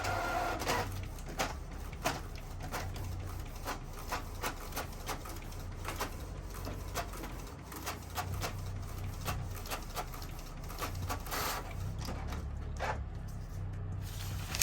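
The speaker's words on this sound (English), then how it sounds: "I'm gonna go ahead and hit print, and allow me to just leave it here so you can see the process" Canon Pixma GM2040 inkjet printer printing a tattoo stencil, a soft steady mechanical hum broken by repeated clicks and quick head-pass ticks, close and fairly quiet.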